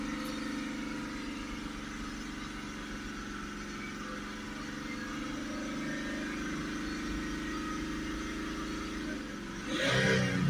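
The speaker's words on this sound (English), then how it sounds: "we're creeping up again with the revs" A BMW 525d diesel engine with a blocked particulate filter idles steadily with a low hum, the revs drifting slightly, then a brief louder burst near the end.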